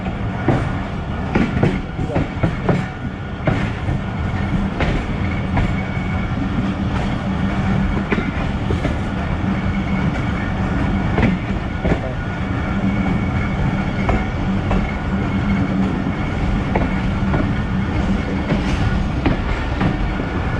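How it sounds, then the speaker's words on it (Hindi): The 130 Down Thal Express passenger train pulls out of Taxila station, giving a steady, loud rumble of rolling wheels with rhythmic clickety-clack over rail joints that runs the whole time. "दो मिनट का शेड्यूल स्टॉप करने के बाद 130 डाउन थाला एक्सप्रेस टैक्सला से"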